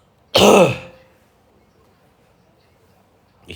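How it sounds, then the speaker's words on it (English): A man has a coughing fit, one loud, close throat-clearing cough near the start that trails off into quiet, then a brief start of another cough at the very end. "Got a little coughing attack."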